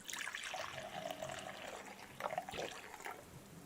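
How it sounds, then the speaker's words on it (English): Soft, steady wash of rain-like water noise, faint and continuous with slight swells. "I hear rain. Is it raining outside?"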